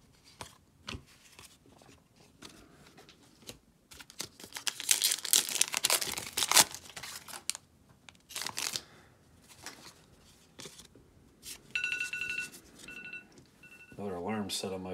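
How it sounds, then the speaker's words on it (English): A phone alarm sounds near the end as a series of bright, repeating electronic tones, following loud crinkling and tearing of Topps trading card packs. "Another alarm set on my phone."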